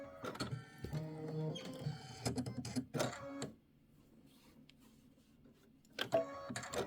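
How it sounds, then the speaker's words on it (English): An embroidery machine stitches a satin outline, a fast mechanical chatter in steady bursts with a quiet pause in the middle before the needle rattle resumes close up. "Nine minutes of stitching here."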